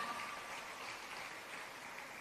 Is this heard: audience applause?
yes